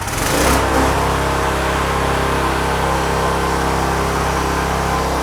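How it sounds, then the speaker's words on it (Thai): A branch chipper shredder, model 2EMH, powered by a 13-horsepower Honda engine, runs steadily after starting, a loud continuous mechanical drone with a brief rise at the start, close by and alone. "นี่เราติดเครื่องแล้วเราก็จะตึงสายพานนะครับ"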